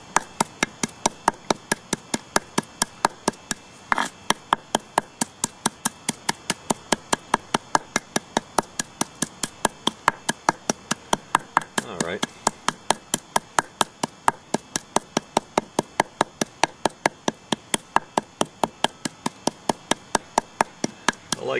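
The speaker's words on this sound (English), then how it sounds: "This is more than enough to completely grind this platform all the way." A flint blade core platform is ground with a watery abrasive paste in quick, even, back-and-forth strokes. The close, sharp rhythmic scrapes keep a steady pace with one brief irregular patch, and no one talks.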